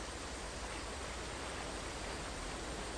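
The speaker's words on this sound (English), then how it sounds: "Is that a waterfall?" A distant waterfall gives a steady, even broadband roar with no breaks across the whole stretch, soft and far off, with no voices over it.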